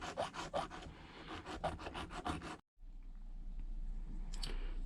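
Rhythmic rasping strokes of a hand file against the metal iron sight of an airsoft pistol, a Tokyo Marui Hi-Capa, about ten quick passes close up, then a pause and a quieter stretch with faint handling noise.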